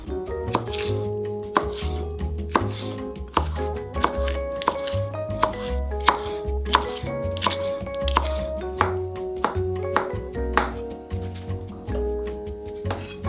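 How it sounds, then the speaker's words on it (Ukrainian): A knife slices a bell pepper into strips on a cutting board, steady sharp taps repeating close by, with a faint tonal hum in the background. "І тепер легко нарізаємо соломкою"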